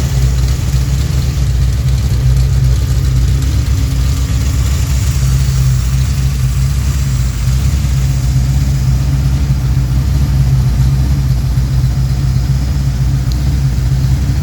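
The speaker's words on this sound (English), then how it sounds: "This thing should idle right around 650, 700." A Pontiac 428 V8 fed by three two-barrel carburetors idles steadily, a loud, close, deep rumbling throb that holds without revving throughout.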